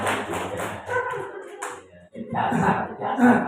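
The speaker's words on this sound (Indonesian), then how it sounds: "Tepuk tangan untuk guru yang luar biasa" Applause for teachers at a gathering of Islamic religious education teachers in Gayamsari, Semarang, with a burst of group clapping that dips briefly and then swells again, mixed with voices talking nearby.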